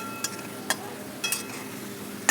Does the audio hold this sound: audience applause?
no